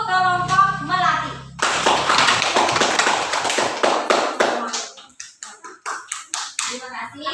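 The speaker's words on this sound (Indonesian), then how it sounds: "Tepuk tangan untuk kelompok melatih" Classmates in an elementary school classroom break into clapping for a group after a voice, first a dense burst of many hands, then thinning into sparser individual claps that gradually fade.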